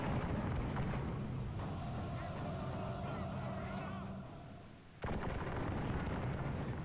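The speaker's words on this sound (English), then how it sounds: "More shots from the Teppo samurais, and they decide to retreat" Teppo samurai matchlock volleys in a Medieval II Total War Imjin War mod siege battle sound as rumbling, booming gunfire and battle noise, dipping briefly before a sharp burst returns, with someone talking over it.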